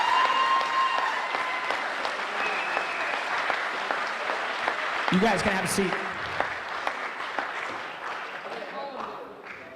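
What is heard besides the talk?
applause for the senior football class at a banquet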